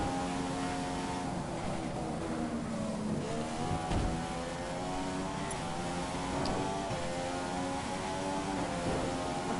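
Formula One car engine in the F1 2015 video game on a qualifying lap at the Canada circuit, a continuous high buzzing whine that rises and falls in pitch through gear changes, steady and fairly loud.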